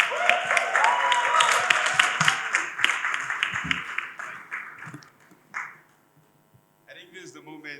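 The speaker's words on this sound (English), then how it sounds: "A round of applause." Audience applause and clapping at an investor summit demo day, greeting a startup pitcher called to the stage; dense sustained clapping for about four seconds that thins and fades, with a short burst near the end.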